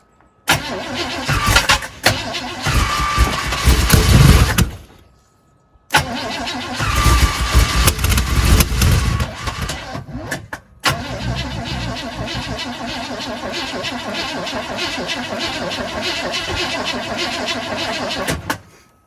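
An old Chevrolet Blazer, left sitting since 1997, cranks in two long loud bursts and then catches, settling into a rough, steady idle close by.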